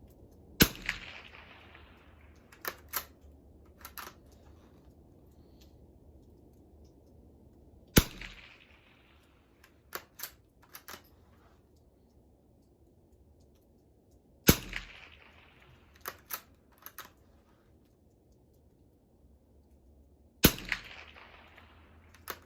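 Sharp shots from a Mossberg 46a rifle striking a target hung on rubber straps, each crack followed by a brief ring or thud; about a dozen spaced impacts in irregular bursts, with quiet gaps between.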